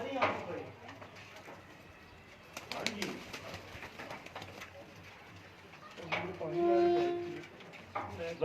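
Lakha pigeons coo softly in a loft at Laduana village near Nankana Sahib, a low rolling coo rising near the end beneath men's conversation and faint clatter.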